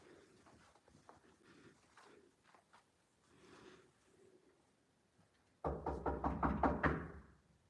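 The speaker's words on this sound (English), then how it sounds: "That happened again, the knock." Knocking during a paranormal investigation at Malvern Manor: faint scattered taps over a quiet room, then a sudden loud, close run of about eight rapid, evenly spaced knocks near the end.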